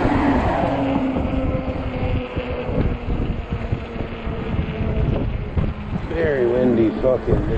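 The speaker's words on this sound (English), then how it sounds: "Very windy fucking day." Strong, steady wind buffets the microphone during a ride on a 48V fat-tire e-bike on a chilly October day, a loud broadband roar that rumbles throughout with a few faint tonal whines and a voice briefly near the end.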